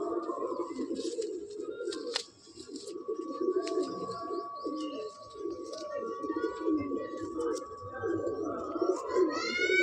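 Madrasi pigeons in a loft coo continuously at close range in soft overlapping rolls, with a thin sustained whistle-like tone and brief chirps over them.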